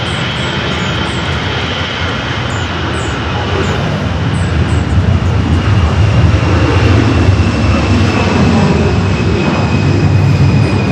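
A jet airliner powers down runway 24 left at LAX on its takeoff roll, a loud continuous roar with deep rumble that swells gradually and holds throughout.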